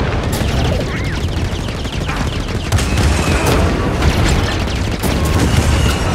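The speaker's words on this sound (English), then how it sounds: "So that fires the cannon." A cannon fires repeatedly during a Star Wars Jedi: Fallen Order battle on Kashyyyk, loud booming blasts and rapid gunfire over a constant roar of combat noise and laser shots.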